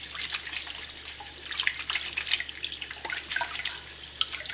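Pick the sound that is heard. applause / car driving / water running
water running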